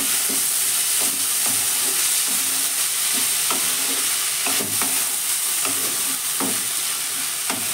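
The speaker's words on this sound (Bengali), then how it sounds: "তারপরে আবারও একটু সবজিটা একটু উপর নিচ করে দিচ্ছি।" Winter vegetables stirred in a pan over a medium gas flame, with repeated scraping and clacking strokes against steady frying sizzle, close and moderately loud, no talk.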